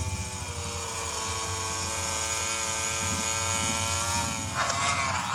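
A high-revving MotoGP motorcycle engine screams steadily, with rising pitch sweeps and a quick seamless-gearbox short shift near the end; no talking.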